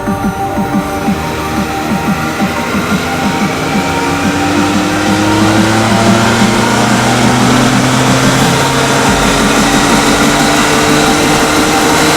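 2017 or 2018 Ford F-150 pickup with a full-bolt-on 3.5L EcoBoost V6 running on a dyno, a steady loud engine drone with gradually rising pitch throughout, no voices.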